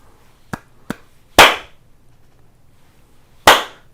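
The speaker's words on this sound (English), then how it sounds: "I'm going to clap." Single hand claps in a quiet chiropractic room: two small light claps followed by two loud, sharp, close claps spaced about two seconds apart, each cracking out alone against silence.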